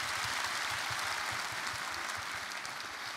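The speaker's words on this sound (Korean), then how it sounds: "격려의 박수 부탁드립니다." A church congregation at a New Year's Eve service gives an encouraging round of applause for the choir, a dense, even wash of clapping that holds steady at moderate distance throughout.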